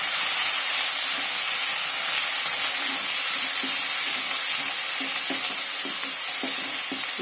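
Onion paste with almonds fries in a pan, giving a loud, steady sizzle and hiss with faint scraping stirs ticking through it, with no talking.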